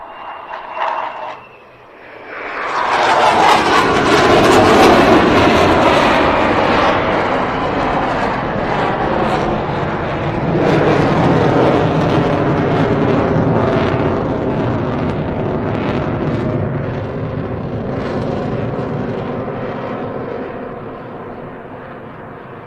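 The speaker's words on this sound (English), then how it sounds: "And we see those demonstrated here in a classic Hornet manoeuvre, a square loop with lots of alpha being pulled during those hard vertices to the loop." An F/A-18 Hornet fighter jet roars through a square loop at an airshow, its engine noise swelling to a loud, rushing thunder that holds and rumbles on for many seconds with slowly shifting tone.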